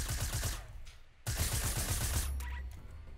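Rapid automatic gunfire from the video game Fortnite, two dense bursts of repeated shots separated by a brief pause, loud and close, ending with a ringing tail.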